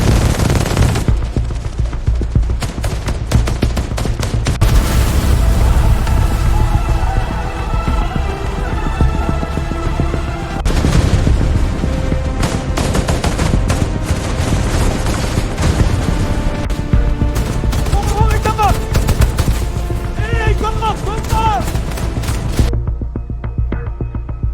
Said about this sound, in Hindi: फायरिंग की आवाज सुनाई दी